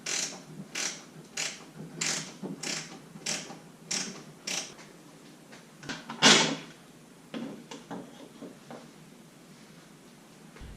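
Bolts are worked off a Scion xB panel with a ratchet, making a series of quick repeated clicking bursts up close, then a louder clunk and a few softer scrapes and taps.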